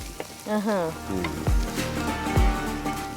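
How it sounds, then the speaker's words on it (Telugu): Turmeric dropped into hot oil for a village-style chicken curry, crackling and sizzling with light stirring knocks, while a voice speaks briefly over the frying. "పసుపు వేస్తే చిట్టపట్ట చిట్టపట్ట చిట్టపట్ట అనుకుంటుంటుంది"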